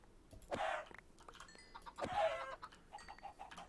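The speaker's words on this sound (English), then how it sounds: "I don't want to kill all these chickens" Chickens cluck in the video game Minecraft with the Mystical Agriculture modpack, two louder squawking bursts followed by softer clucks and small game clicks, close and alone.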